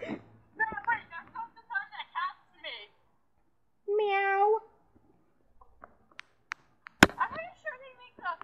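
A person imitates a cat with a drawn-out meow amid short bursts of casual speech on an online call, the vocal meow standing out clearly in the middle.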